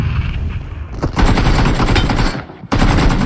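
Rapid automatic gunfire in PUBG Mobile, loud and dense, with sustained bursts of shots, a brief gap near the end, then firing resumes.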